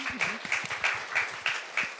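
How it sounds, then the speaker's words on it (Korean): Audience applause at a Korean film event honoring an actress: a small crowd claps in steady, moderately close bursts, with faint murmuring underneath. "박수 한번 부탁드릴게요"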